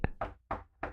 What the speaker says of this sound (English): Knock knock on the door.